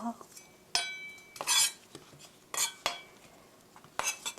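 A knife cuts apple into thin slices for an apple cinnamon cake, sharp crisp chops and scrapes against a board spaced irregularly, close up and fairly quiet.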